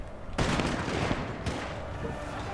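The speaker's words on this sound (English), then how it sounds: "They were taking a lot of fire from the matchlocks." Dense matchlock musket volleys crackle nonstop in a samurai strategy game battle, a thick rattling fusillade that swells sharply with fresh bursts partway through.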